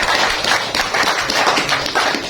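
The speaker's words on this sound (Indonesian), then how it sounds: "tepuk tangan dulu ya buat aku" An audience bursts into dense, continuous clapping at close range, loud and lively throughout, with no talking over it.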